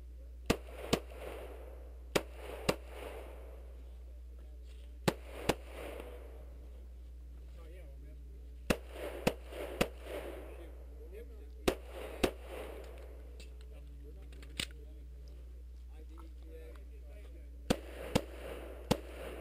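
Pistol gunshots during an IDPA shooting match stage, sharp single and double shots ringing out at irregular intervals over a steady low hum, with faint voices in between.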